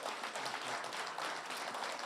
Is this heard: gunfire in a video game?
no